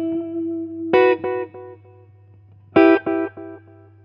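Electric guitar through an affordable delay pedal, two struck chords each followed by a quick repeat that fades out, over a steady low amp hum, clear and close.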